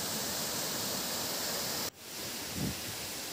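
Naai waterfall in the Kolli Hills, water falling heavily in a constant, broad roar that briefly dips before resuming at full strength.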